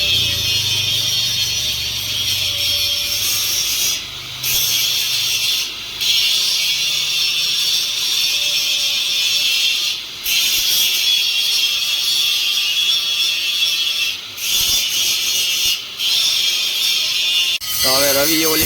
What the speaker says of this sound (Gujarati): તો હવે રવિએ ઓલી બાજુ ગ્લાઇન્ડર ચાલુ કરી દીધું છે. આ બાજુ હું ઘસું છું, ઓલી બાજુ રવિ ઘસે છે.